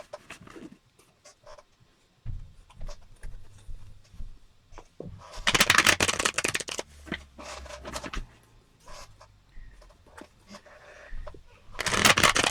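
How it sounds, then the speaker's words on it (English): Papery riffling and flicking bursts of playing cards being shuffled for the tabletop game APBA Soccer, in several bouts close by, with light handling noises between them. "that's enough shuffling"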